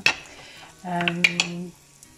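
Faint sizzling of onions sautéing in a saucepan with a few metallic clinks of a utensil stirring, close by and quiet, with a brief tonal hum in the middle.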